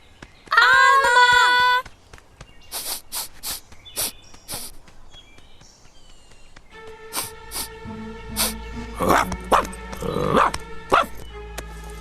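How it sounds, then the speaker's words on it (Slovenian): A very big dog barks in an animated children's series, sending out a string of deep, loud woofs and yelps over background music, with voices speaking around them. "Tole je zelo, zelo velik pes."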